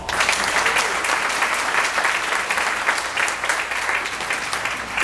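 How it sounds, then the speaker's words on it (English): A crowd applauds past winners and queens at the Ms. Senior Davie County 2024 pageant, with dense, even, continuous clapping that stays loud and steady with no pause. "So please give one more round of applause to all of our past winners and additional queens."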